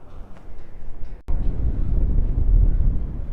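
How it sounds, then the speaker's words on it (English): Strong wind buffeting the microphone beside a river, a loud low rumbling roar that surges abruptly after a short pause and stays heavy. "It gets really windy again."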